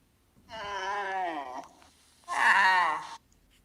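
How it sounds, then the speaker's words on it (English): A camel vocalizing in two drawn-out calls, the first a long wavering groan and the second a louder, harsher bellow after a short gap, each standing alone against near silence. "It's a camel."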